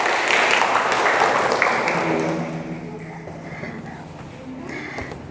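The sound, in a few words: applause for everyone in class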